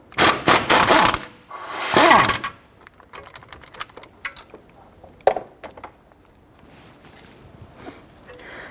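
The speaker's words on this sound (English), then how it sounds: "Loosen the last bolt." A ratchet loosens a bolt on the front engine mount of a 1992-1996 Toyota Camry 2.2L four-cylinder, with two loud bursts of rapid clicking followed by quieter scattered clicks and metal taps nearby.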